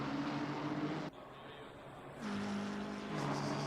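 A McLaren race car in a racing video game at Spa drives past with a loud, steady engine drone. The pitch drops and shifts sharply as it goes by, then climbs again.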